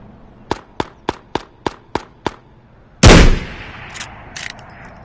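Eastwood DLC gun firing in the VR shooter Ghost of Tabor, seven sharp evenly paced shots, followed by a single louder blast with a ringing decay and a few smaller clatters.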